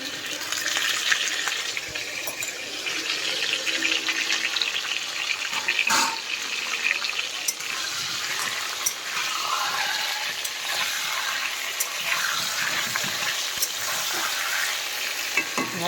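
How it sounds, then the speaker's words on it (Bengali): Chandramukhi potatoes frying in oil in a wok (kadai), a loud continuous close sizzle with occasional stirring scrapes and sharp pops, steady throughout. "ভালো করে লাল করে মচমচে করে আলুটা ভাজবো"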